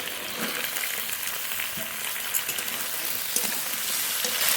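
Yardlong beans fry with potatoes in a pan, a steady close sizzle with occasional stirring scrapes and small pops throughout.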